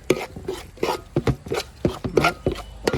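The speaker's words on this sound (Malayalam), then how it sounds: "നല്ലപോലെ ഒന്ന് മിക്സ് ചെയ്യാം." Spices being stirred into chicken curry masala with a spoon, a close series of irregular scraping and knocking strokes against the pan, moderately loud with no voices.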